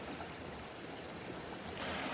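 Steady broadband rush of a stream and a waterfall upstream at a gold-panning site, heard close and continuous for the whole stretch with no voices.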